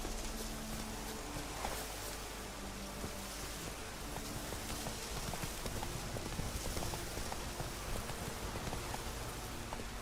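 Roach the horse galloping across Velen in The Witcher 3, steady quiet hoofbeats clopping over a soft, rain-like wash of ambient noise, fairly faint and without talk.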